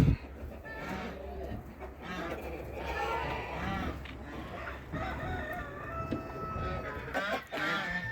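Several chickens, including a yellow hen and an old one, cluck and murmur continuously nearby at a homestead, with a rooster-like call and other farm noise mixed in and a steady low hum underneath.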